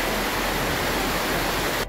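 A waterfall near a roadside, with water pouring down over the drop, gives a steady, dense rushing roar that holds evenly and sounds close.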